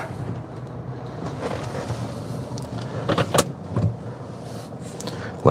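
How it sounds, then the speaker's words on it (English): On a Florida roadside, a car drives past with a continuous motor rumble and road noise, and a few brief knocks and clicks sit on top. "Of course, there's a car coming."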